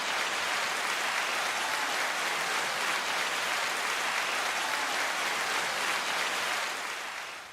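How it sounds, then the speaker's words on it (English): A steady round of applause from a crowd, dense and sustained throughout, tapering off slightly at the very end. "So let's get the round of applause up for Chantel first and foremost."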